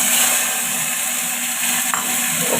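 Tomato dropped into hot oil seasoned with asafoetida for dal, giving a steady, close, broadband sizzle with a faint clatter near the end and no talking.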